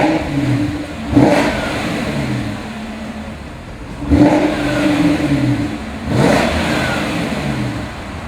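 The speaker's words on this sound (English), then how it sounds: "I want to start it up again for you so you can hear that initial startup growl." A supercharged 2009 Jaguar XKR engine fires up and revs, with three distinct throttle blips rising from a steady growling idle, close and fairly loud.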